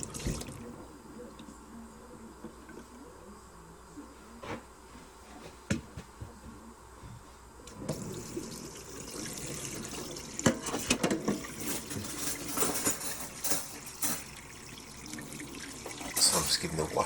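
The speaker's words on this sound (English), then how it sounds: "I'm just giving it a wash, washing all the magma off." Running water from a tap washes magnetite sludge off a Trappex Centramag 2 magnetic central-heating filter, a steady splashing stream that grows louder and busier partway through, with someone talking over it at times.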